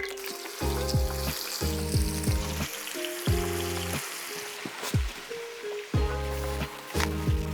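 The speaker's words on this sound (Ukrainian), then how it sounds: "Змішали і тепер обсмажуємо наші крушеники." Krucheniki meat rolls fry in lard in a pan, making a bubbling sizzle that comes and goes in bursts, with occasional sharp crackles and tonal layers over it.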